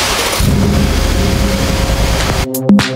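A new car's engine turns over and catches, settling into a steady mid-pitched running rumble that stays loud and close for the whole stretch, then cuts into a few abrupt clicks and thumps at the end.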